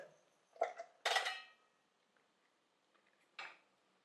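A spoon stirs turmeric into spice paste in a pan for masale bhat, giving a few sharp metallic clinks and scrapes close by. Quiet gaps fall between them, and no one talks.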